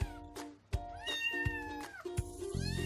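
Kitten meowing repeatedly in a series of clear, close calls of rising and falling pitch, with short pauses between them, heard alone without any talk.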